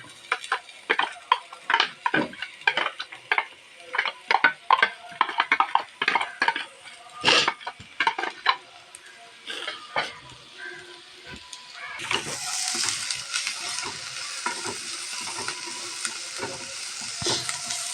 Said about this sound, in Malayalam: സവോള ഇഞ്ചി വെളുത്തുള്ളി അതുപോലെ വഴന്നു.